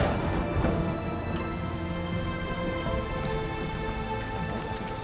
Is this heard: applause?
no